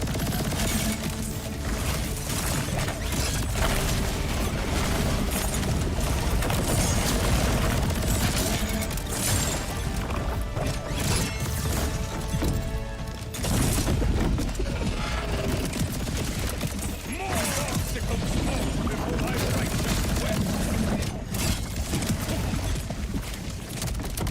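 Gunfire in the video game Borderlands 4, a dense, constant barrage of rapid shots and booming impacts that fills the whole stretch, loud and unbroken.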